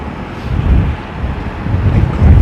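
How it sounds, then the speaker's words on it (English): Airliner engines spooling up and roaring in reverse thrust during windy landings at London Heathrow Airport, a steady low rumble buffeted by wind noise on the microphone, swelling toward the end. "hear these beautiful engines winding up and reversing and doing all that"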